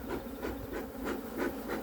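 Honeybees buzzing at an opened hive at Takou Sanctuary apiary, being smoked down while a beekeeper works: a close, continuous droning hum that swells and fades in soft pulses.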